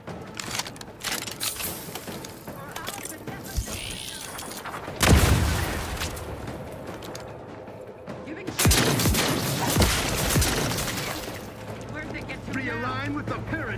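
Gunfire in the video game The Outer Worlds, with bursts of shots and loud blasts in two main volleys separated by quieter stretches, mixed with game effects and voices.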